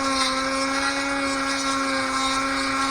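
A Dremel rotary tool sharpens a chainsaw chain, giving a loud, steady high-pitched whine with a constant grinding buzz and no pauses.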